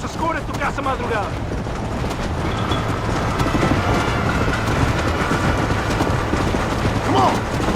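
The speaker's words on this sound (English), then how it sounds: "There is a train!" A train rumbles past in the Western video game Red Dead Redemption, a steady continuous clatter throughout, mixed with game music and effects.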